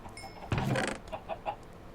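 Chickens in a hardcore survival game of Minecraft cluck in a few short, close calls after a brief louder thump, with nobody speaking.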